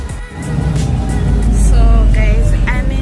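Inside a bus travelling through St. Petersburg, a loud, steady low engine drone swells and rumbles under scattered voices talking nearby.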